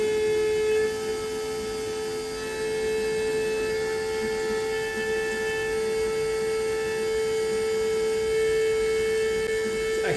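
A vacuum pump runs steadily on the fuel system of a Ford XG ute, a constant close tonal hum with faint overtones that holds unchanged throughout.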